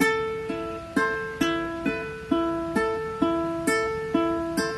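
Plucked guitar top and bottom strings ring out in a steady repeating pattern from a piano intro, each pick bright and decaying, alternating high and low notes at an even pace.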